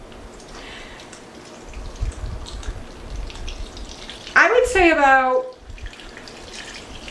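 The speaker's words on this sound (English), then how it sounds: "we're going to pour our broth over" Broth poured over a pork roast in a crockpot, a brief splashing liquid pour in the middle under a kitchen voice and low background noise.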